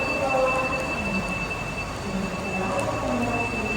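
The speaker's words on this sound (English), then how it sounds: "We waited there for some time till the train left" A Whoosh high-speed bullet train pulls out of a station, giving a steady rolling rush of rail noise with a thin high squeal running throughout. No voices are heard.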